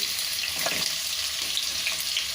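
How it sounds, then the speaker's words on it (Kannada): Onions and green chillies fry in oil in a pan with mustard seeds for a drumstick-leaf egg stir-fry, giving a steady close broadband sizzle with a few faint stirring clicks, no voices. "ಈರುಳ್ಳಿ ಎಲ್ಲ ಚೆನ್ನಾಗಿ ಫ್ರೈ ಆಗಿದೆ"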